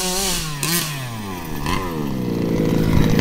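A Rovan 36cc two-stroke engine in a Redcat rally RC car revs between quarter and half throttle, a loud buzzing whine that rises and dips in pitch, then climbs steadily toward the end.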